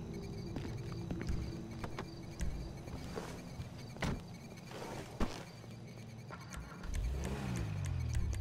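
Car engine noise in Grand Theft Auto V, a low continuous rumble with occasional revving swells and sharp knocks, heard at moderate distance with no talk.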